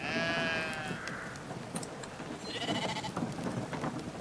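Sheep bleat loudly and close in the video game Brothers: A Tale of Two Sons, a long wavering bleat opening the scene followed by further bleats over a rumbling rain-like background.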